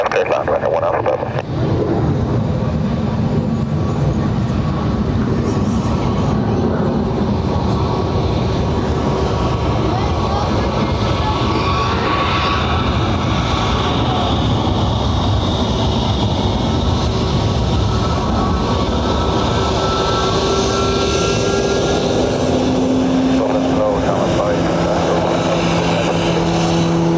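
A Dubai Air Wing Boeing 747 freighter on landing approach at Dublin airport, its broad loud engine roar sustained and steady throughout and close by, with brief radio voices partly audible.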